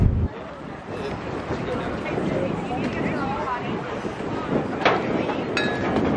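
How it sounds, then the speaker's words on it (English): Wind buffets the microphone in a constant rumbling rush, with faint muffled voices and occasional clicks underneath. "It's so windy. Very windy."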